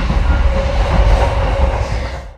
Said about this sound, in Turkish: Dünyanın en büyük çölü olan bu çölden dünyanın en uzun treni geçiyor.